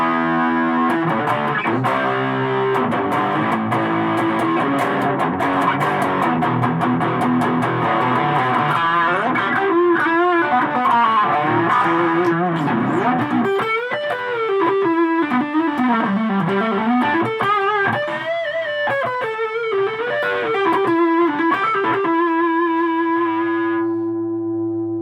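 Electric guitar played through a small Roland Micro Cube amp with distortion, a loud, continuous overdriven tone with sustained chords giving way to bending, wavering lead notes, fading out near the end.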